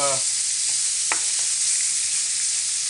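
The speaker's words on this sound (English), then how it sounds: "so the meat actually fries and doesn't boil" Big chunks of whale meat fry in a very hot pan with a steady, loud, close sizzling hiss and a few faint clinks and crackles scattered through it.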